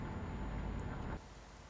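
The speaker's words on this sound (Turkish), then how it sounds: "Aha yağmur başladı hocam." Rain falls on a truck in the Euro Truck Simulator video game. A dense, steady hiss with low rumble plays alone, then abruptly drops to a quieter level.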